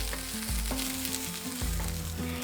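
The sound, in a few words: soybean chunks frying on medium flame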